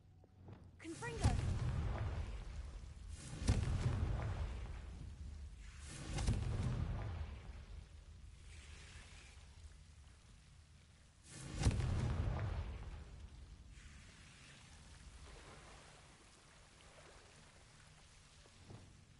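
Confringo blasting spells exploding in the Hogwarts Legacy video game, four deep booming blasts with long rumbling tails at irregular intervals, separated by quiet stretches.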